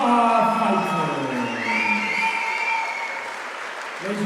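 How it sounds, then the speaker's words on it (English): A crowd at a Kingdom combat sports event applauds and cheers both fighters in the cage, with whoops and shouts over steady clapping and a loud announcer-style voice near the start. "can we please have a big round of applause for both of our fighters"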